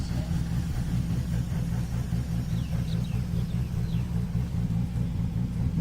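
Drift car engine at the Borneo Star Drift Series, a steady low rumble and idle running continuously at moderate distance, with faint crowd or announcer voices mixed beneath.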